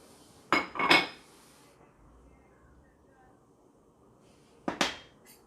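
Curry spices and ingredients being mixed in a bowl for chicken curry: two short bursts of a utensil clinking and scraping against the dish, separated by several seconds of near quiet.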